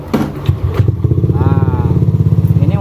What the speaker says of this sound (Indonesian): Untuk dari bagian mesin kita nyoba hidupin bang.